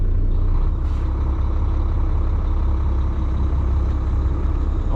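A Kenworth show truck sits idling with a loud, steady engine rumble. A brief hiss from the air brakes being released comes near the start. Nobody speaks.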